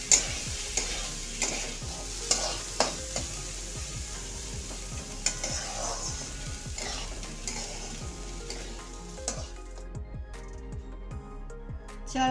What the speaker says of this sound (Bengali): এখন চালটাকে একটু নেড়ে নেড়ে ভাজা করে নিই।